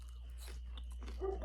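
Crunchy French fries bitten and chewed at a restaurant table, a few soft crisp crunches close to the mic over a steady low hum, louder toward the end.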